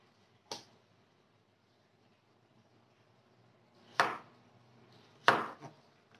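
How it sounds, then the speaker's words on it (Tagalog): A knife cuts through a somewhat damaged, fairly firm piece of food on a cutting board, three sharp chops spaced apart over quiet background, the last two louder and closer. "So, hiwain natin guys dahil medyo may sira yung ano"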